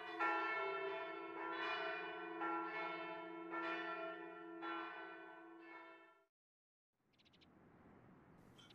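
Church bells peal in the dating game Tokimeki Memorial Girl's Side 4, several overlapping strikes ringing out with long sustained tones for about six seconds, then a brief silence before a soft, airy wash of sound.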